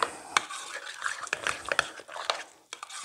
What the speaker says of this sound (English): So this will just stir it all in.